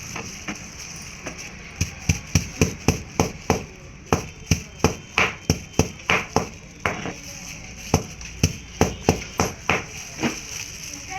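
Pepper and garlic being ground with water on a grinding stone, a series of sharp, rhythmic knocks and scrapes repeating steadily at close range, with no talk.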